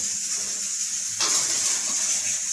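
A wok being washed under running water, a soft hiss that swells abruptly into a louder, steady rush of water partway through.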